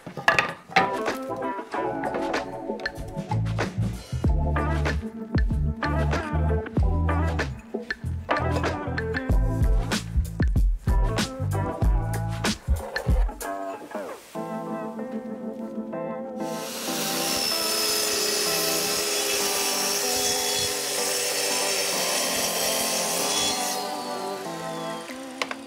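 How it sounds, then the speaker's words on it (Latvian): A plunge saw cuts through wooden shelf boards in one steady, loud, rasping whir lasting about seven seconds, coming after a stretch of rhythmic music that carries on faintly underneath. "Sākam ar plauktu sazāģēšanu, izmantojot iegremdējamo zāģi."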